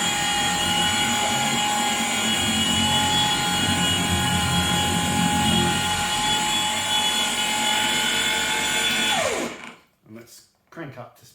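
Polishing machine whirring steadily at low speed with Menzerna one-step polish, a constant loud mechanical hum with tonal whine that winds down and stops near the end.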